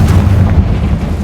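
A Confringo explosive spell fired in Hogwarts Legacy lands as one loud, low, rumbling blast that fills the short moment, with no talk over it.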